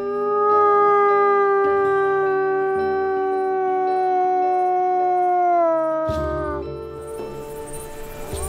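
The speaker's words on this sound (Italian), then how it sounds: "ad ululare come un lupo, perché devi sentirti uno di loro e loro ti rispondono" A long wolf howl in the Lessinia mountains rises and holds steady for several seconds, clear and sustained, then gives way to shorter overlapping howls and yips.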